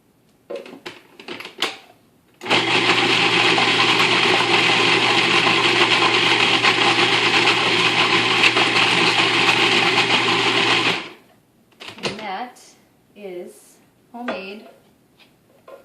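A blender whirs loudly and steadily for about eight seconds, blending chocolate pudding, with brief talking before it starts and after it stops.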